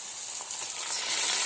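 Marinated chicken sizzling in a hot pan as it goes in, a steady bright hiss that builds slightly over the short span with no voices.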